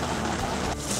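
Heavy rain drumming on a camping tent, a dense, loud, continuous hiss that fills the whole moment without a break.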